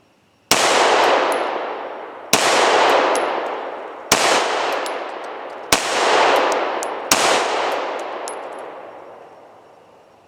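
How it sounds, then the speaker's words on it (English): Five loud pistol shots fired at a slow, even pace about 1.5 to 2 seconds apart, each a sharp crack with a ringing decay, during a dot torture drill with a micro red dot pistol; no talking. "Shooting 5 round slow fire on number 1."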